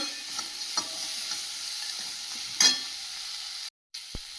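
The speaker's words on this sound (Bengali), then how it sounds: "ভালো করে রানি শাকটা ভেজে নেব" Brahmi greens frying in a pan, a constant close sizzle broken by several stirring scrapes and clatters, one louder clank near the middle, then a sudden brief cutout and a soft bump at the end.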